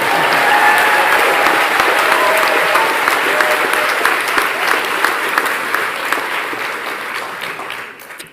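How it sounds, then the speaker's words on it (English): Steady, full applause fills the hall at a graduation ceremony, a dense crowd clapping continuously for several seconds before tapering off at the end. "Can you clap again, please?"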